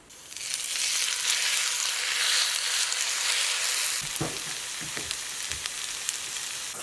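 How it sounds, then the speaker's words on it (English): Potato hash browns frying in lard in a skillet, a loud, steady close sizzle that thins slightly near the end while a few light clinks and stirring knocks sound. "I'm filling up our skillet with a little bit of lard. And we've already prepared our potatoes, and we're going to be making hash browns."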